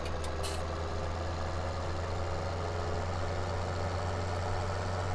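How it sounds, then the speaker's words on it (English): A vehicle engine idles steadily in Farming Simulator 17, a constant low rumble with a strong bass hum running unbroken throughout, alone with no talk. "My engine was already running."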